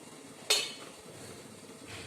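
A steamer lid lifts off with a single sharp metallic clink over a pot of steaming kozhukattai, followed by a quiet kitchen hiss and low room noise.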